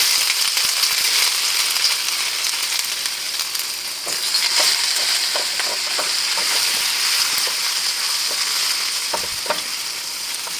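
Steady sizzle of loya being sautéed in a hot kawali for ginataang talbos ng kamoteng kahoy, a continuous bright frying hiss with occasional stirring clicks and pops, close and loud with no talking.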